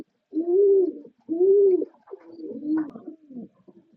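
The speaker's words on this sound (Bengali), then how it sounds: "লক্ষা কবুতর, এগুলো ডিম নিয়ে বসে আছে।" Lakka fancy pigeons sitting on eggs coo in three low, rolling calls close by, with quiet gaps between them and no talking.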